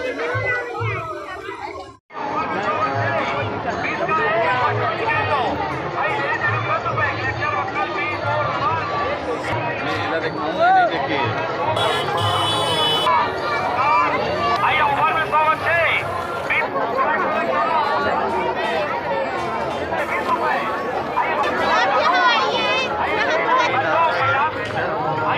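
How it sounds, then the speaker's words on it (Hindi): A dense crowd packs the Ganesh tableau festival at Charo Dham, Gudhiyari, Raipur, in 2022, beside a samudra manthan scene. Loud, continuous babble of chatter and children's voices fills the clip, close around with a speaker talking. "बहुत भीड़ है।"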